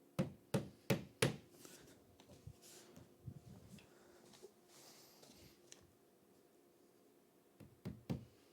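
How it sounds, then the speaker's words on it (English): Sharp hammer blows on wood while assembling furniture indoors, a quick burst of four or five loud strikes, then softer scattered taps and knocks, and two more firm hits at the end. "my downstairs neighbor is about to hear me hammering for the next couple minutes"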